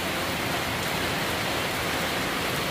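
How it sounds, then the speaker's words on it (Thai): Heavy rain pours down in a steady, dense hiss during a storm, loud and close, a constant wash of falling water with no gaps and no voices. "ฝนตกเลยนะครับ"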